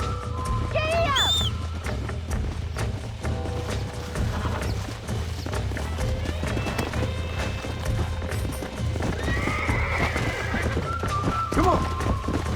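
Horse whinnying and galloping in the Red Dead Redemption video game, with a sharp neigh early on and steady clip-clop hoofbeats throughout, close and loud over a background music score while voices talk.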